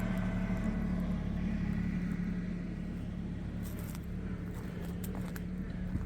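A tractor pulls away to haul more gravel at a rural cabin property, its steady low diesel engine drone continuous and fairly distant, with no talk.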